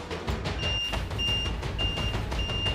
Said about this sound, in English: He can make it beep to help him find it. Hear that?